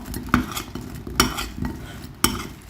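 Scraping and stirring with a utensil in a bowl as donuts are tossed in cinnamon sugar, gritty rustling broken by three sharp clinks against the side.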